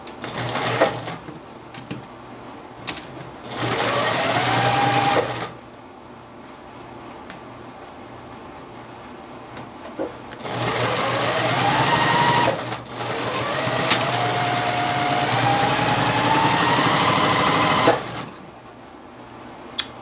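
Sewing machine stitching the pinned seams of a quilt block: rapid mechanical whirring in three long bursts of several seconds each, with quieter pauses between, close and clear with no talking.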